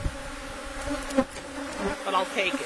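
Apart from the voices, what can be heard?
honey bees in an open hive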